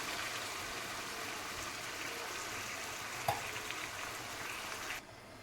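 Chicken simmering with added curd in a pan for a dry curry-leaf chicken dish, giving a steady, close sizzle with one brief clink and no talking.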